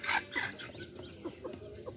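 A hen clucking nearby in a home setting, a short series of soft clucks, louder at first and then quieter, with no talking.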